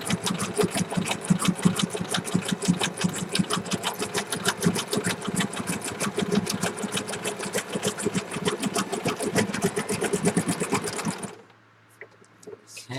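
A sewing machine stitches palm cards in a fast, steady, close mechanical chatter for about eleven seconds, then stops abruptly, leaving a low hum.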